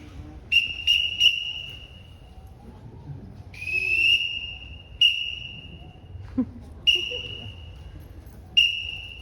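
Sharp whistle blasts at a bird show at the Alaska State Fair, sounded in short bursts: three quick toots, then longer blasts spaced out, clear and fairly close over a quiet background.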